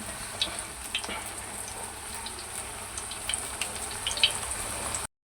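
Lauki chapli kebabs fry gently in oil on a low flame, a steady quiet sizzle with faint crackles and pops that cuts off abruptly at the end.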